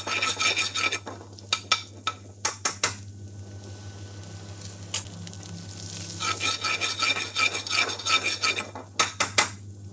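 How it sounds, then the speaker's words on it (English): Ginger and garlic frying in a pan for chicken madras, a soft sizzle beneath repeated clinks and scrapes of a utensil stirring against the metal, close and busy, with a low hum throughout. "Ginger garlic, we're just going to cook it, fry it slightly, not too much, not too overdone"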